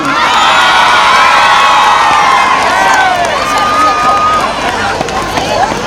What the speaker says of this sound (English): Can we keep cheering for them, children?